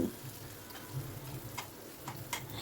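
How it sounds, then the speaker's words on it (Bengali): Sugar fries in hot oil in a pan for a chicken dish, a faint, steady low sizzle broken by a few soft ticking pops, with no voices. "দেখুন, আগে চিনিটা একটুখানি ভেজে নিচ্ছি।"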